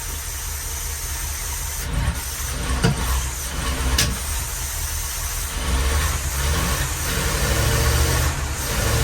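A 1948 Ford V8 Pilot being recommissioned runs with its engine revving gently under light throttle, a steady loud rumbling drone with slight swells and a few knocks, close by and without talk.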